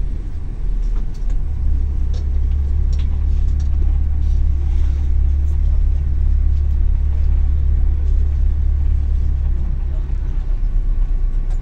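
Jammed traffic near the Quba Mosque in Medina: a constant deep rumble of idling and creeping car engines fills the air, loud and unbroken, with faint higher noise scattered over it.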